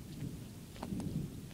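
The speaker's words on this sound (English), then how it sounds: "I think I just caught lightning on film." A thunderstorm over a front yard brings a faint, low rumble of thunder beneath steady falling rain, quiet and distant, with no voices.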